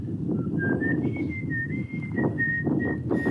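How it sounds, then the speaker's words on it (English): A person whistles a wavering tune, clear and close, over a steady rumble of background noise. "Look what I'm whistling."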